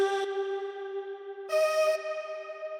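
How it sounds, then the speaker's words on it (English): A vintage Fairlight CMI vocal one-shot sample stab, a sustained sung tone with a bright breathy attack, then a second stab at a new pitch partway through, clear and alone with no talk. "So then the next thing I have on here is this little vocal stab,"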